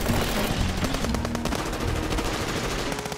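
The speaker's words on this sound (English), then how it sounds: "C formation, covering fire in 7 seconds." Covering gunfire in the video game Path to Nowhere, a dense, loud, continuous burst of rapid machine-gun shots overlapping into a steady rattle, with no talking.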